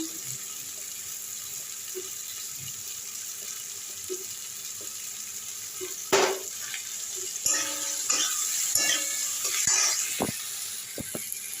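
Water is poured into a hot pan of frying spices and turmeric partway through, setting off a burst of splashing and sizzling over a steady background hiss.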